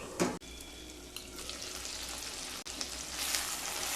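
Spice masala being sautéed in a pan on low heat for Bengali mustard rohu curry, a soft continuous sizzle with occasional utensil knocks and scrapes, quiet and close with no talking.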